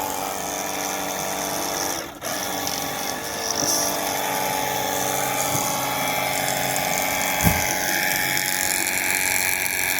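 Woscher cordless pressure car washer running with a steady pump whine and spray hiss, a brief dip near two seconds, continuous and close.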